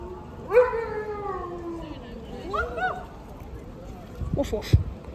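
Near the Lincoln High Street level crossing, a dog lets out two drawn-out falling howls, close and moderately loud, followed by a few short rough bark-like bursts near the end over low background rumble.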